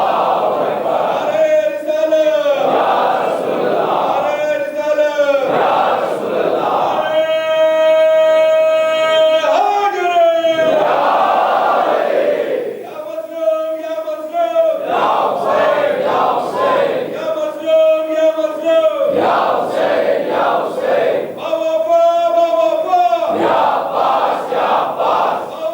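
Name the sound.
crowd chanting religious slogans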